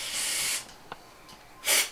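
Two strong hissing bursts of spray wash cleaning an electric motor, one long and one shorter, with a faint tap between them.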